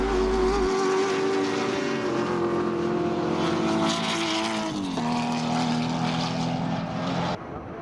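1970s muscle cars such as Chargers, Camaros, rotary Mazda RX2s, Ford Capris and GTHO Falcons race at Eastern Creek, their engines making a loud, continuous roar that drops in pitch as the pack passes, heard from the trackside.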